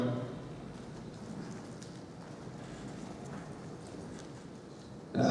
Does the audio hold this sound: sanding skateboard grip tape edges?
no